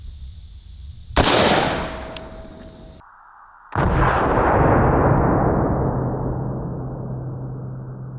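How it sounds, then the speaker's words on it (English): Two loud 5.56 rifle-caliber shots from a Daniel Defense Mark 18 pistol, fired outdoors at a bulletproof blanket, each a sharp crack followed by a long echoing decay, with a brief lull between them. "we're shooting this one out of the Daniel Defense Mark 18"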